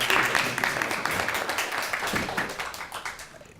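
Members of the public in a parliamentary gallery applaud during an inaugural speech, a dense burst of many hands clapping that fades gradually over a few seconds.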